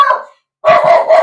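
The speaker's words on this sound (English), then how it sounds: "Excuse the dog again." A dog named Wilco barking indoors, close and loud: one bark, a short pause, then a longer run of rough barking.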